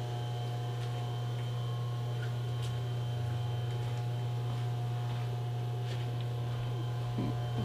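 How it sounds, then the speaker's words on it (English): A metal lathe runs quietly in a workshop, giving a low, steady hum with faint ticks and rattles that continue unchanged throughout. "The lathe is on,"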